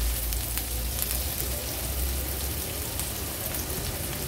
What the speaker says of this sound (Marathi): कांदा पण जास्त शिजवायचा नाही, थोडासाच तेलावर परतून घ्यायचा आहे आपल्याला।